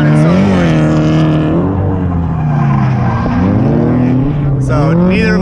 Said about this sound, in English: there's a couple of cars out on track